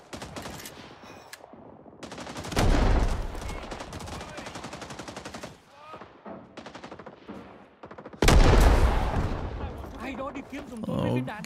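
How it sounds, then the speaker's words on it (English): Gunfire and machine gun bursts in the Rising Storm 2 combat game, with rapid loud volleys that swell around three and eight seconds, mixed with scattered shots and some talk over the top. "Someone's shooting me."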